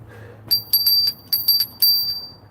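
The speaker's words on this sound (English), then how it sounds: "Bells. Bells are a good thing to put out. I have bells all over the place in my house." Small household bells ring in a quick series of about seven bright, close, loud chimes in uneven clusters, with no talking.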